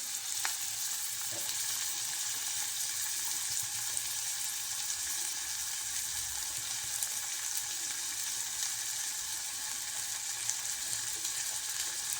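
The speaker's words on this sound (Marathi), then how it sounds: "इकडं दूध ठेवलंय, गॅसचा कसा आवाज येत आहे गरम करायला." A gas stove burner heats a pot of milk in a home kitchen, giving a steady, close broadband hiss that runs unbroken and even for the whole stretch, with no voices.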